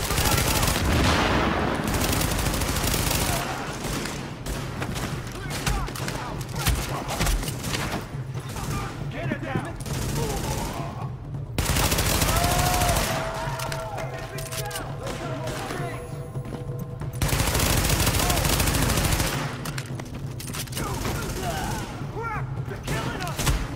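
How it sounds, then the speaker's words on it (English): Sustained gunfire from a rooftop gunner in Tom Clancy's The Division beta, dense overlapping bursts and automatic fire running throughout, loud and close, with game voice chatter over parts of it. "Party's taking heavy fire from the roof"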